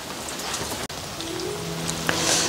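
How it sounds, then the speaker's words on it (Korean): Autumn rain falls steadily on a garden, a dense, even hiss of drops on surfaces with occasional louder drips close by and a faint low hum beneath, no voices. "가을을 재촉하는 가을비가 내리고 있는데"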